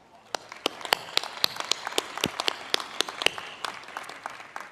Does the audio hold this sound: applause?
yes